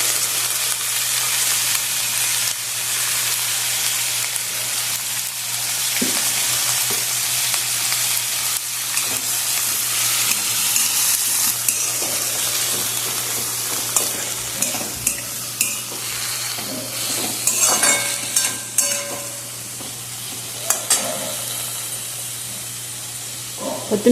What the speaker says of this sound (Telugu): టమాటాలు వేసి కొంచెం వేయించుకున్న తర్వాత కొత్తిమీరని కూడా వేసుకోవాలి